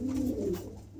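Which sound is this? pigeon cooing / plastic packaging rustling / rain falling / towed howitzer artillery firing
pigeon cooing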